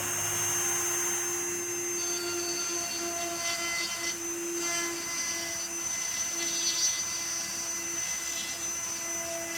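Dremel rotary tool running at about three-quarter speed, carving a wooden patriotic solar light post; a steady high-pitched whine holds throughout, close and continuous with slight shifts in load.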